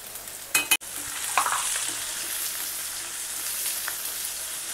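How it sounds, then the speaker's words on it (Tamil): Onions sautéing in a pan for a dry fish fry, a steady close sizzle with a couple of brief utensil knocks near the start. "வெங்காயம் வதங்குது"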